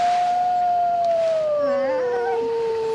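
A recorded wolf howl plays back, one long sustained wavering tone that slowly slides downward over about three seconds, loud and alone, with a faint second voice wavering beneath it.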